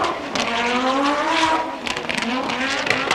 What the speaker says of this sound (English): around about 500 brake horsepower, I should think, this 5-cylinder engine generates